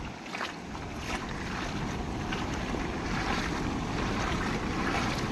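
The flooded Ojat river full of rainwater rushes past in a steady, loud roar, mixed with wind buffeting the microphone.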